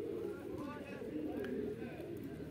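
Van pigeon cooing in low, soft, repeated murmurs, close by and steady throughout, with a voice talking over it.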